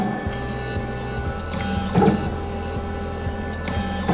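Braille sign inserter machine pressing beads into drilled holes in signage, a steady mechanical whir and hum with tonal motor lines and a brief clattering burst midway, continuous and close throughout.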